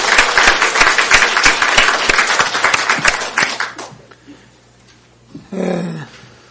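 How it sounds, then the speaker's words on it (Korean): A church congregation claps for its choir during a service: several seconds of lively, loud applause fade out, and then a single voice speaks. "우리 한번 성가대 놓고 한번 박수 한번 합시다."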